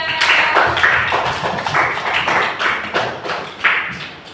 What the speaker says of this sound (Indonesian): Benar tepuk tangan buat semuanya.